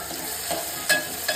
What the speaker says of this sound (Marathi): कांदा व्यवस्थित परतून घ्यायचा आहे.